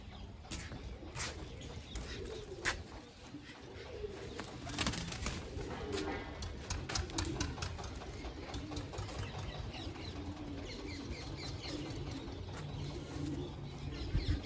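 Large racing pigeons coo softly in a loft, their repeated low burbling calls layered with sharp flutters and taps. A faint engine hum runs underneath and no one speaks.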